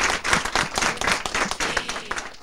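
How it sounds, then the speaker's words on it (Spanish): Audience at a school estudiantina concert applauds the school director, a dense, steady round of clapping at moderate volume with no talking over it. "también quiero un aplauso para el director"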